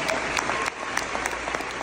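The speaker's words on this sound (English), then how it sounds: "Let's give them a round of applause as we celebrate their accomplishments" A graduation crowd applauds an 8th grade class at a New Jersey school ceremony, a brief burst of dense clapping with scattered sharp individual claps, faint voices mixed in.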